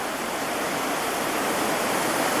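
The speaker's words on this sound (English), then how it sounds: "Here I'm walking down along the river, which is a rugged place." A river rushing past a rugged, debris-strewn bank near Skagway, Alaska, a loud, dense, unbroken roar of flowing water heard up close with no voices.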